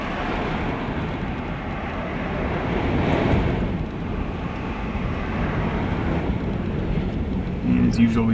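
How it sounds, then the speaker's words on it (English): Strong wind gusts near the Marshall Fire in the foothills above Boulder, Colorado, roar and buffet the microphone in a dense, continuous rush that swells and eases. "And the winds just keep gusting."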